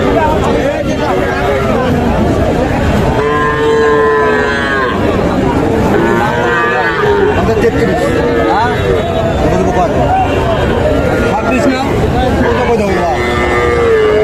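Several young crossbred bull calves, about two months old, moo loudly and repeatedly, long drawn-out calls overlapping, amid a busy crowd talking nearby at the Ambari cattle market in Dinajpur.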